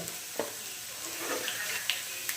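Garlic, mustard seeds and cumin sizzle in hot oil, a light steady frying hiss dotted with small pops and stirring clicks, heard close and without speech.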